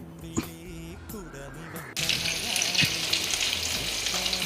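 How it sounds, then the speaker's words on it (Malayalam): After a few quiet clinks and faint tones, a sudden loud sizzle erupts as stuffed mussels hit hot oil and keep frying steadily. "ഇനി ഇത് പൊരിക്കണം"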